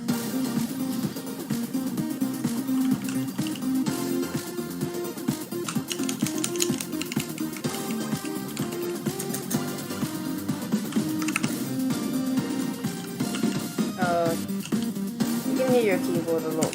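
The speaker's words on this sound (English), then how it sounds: "You can hear your keyboard a lot more with this mic." Rapid, continuous clatter of computer keyboard typing during a game session, loud and close to the microphone throughout, mixed with game music and sound.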